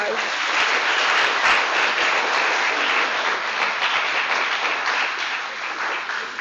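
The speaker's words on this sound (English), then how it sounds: "Let's give them a round of applause" A graduation ceremony audience gives a steady, full round of applause, thick and even from start to finish, with crowd noise blended into the clapping.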